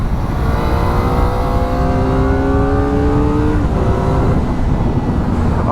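A Kawasaki Ninja ZX-4RR sport motorcycle's loud engine revs up through rising gears on a back road, pitch climbing in steps with brief shifts, close and continuous over road noise.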